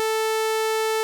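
A steady A440 test tone from an Arturia MiniFreak synthesizer holds at one even pitch with bright harmonics, sounding alone and unchanging for about a second.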